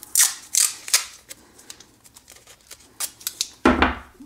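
Tape is handled to fix N scale model train track in place, producing close, crisp clicks, rustles and sharp snaps in an irregular sequence, ending with a louder tearing burst, with no talking.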